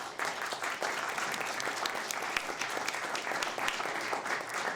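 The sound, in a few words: audience applauding mayoral candidates at forum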